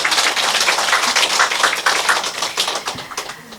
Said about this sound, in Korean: 귀한 법문서를 주신 법사님께 다시 한번 큰 박수 부탁드립니다.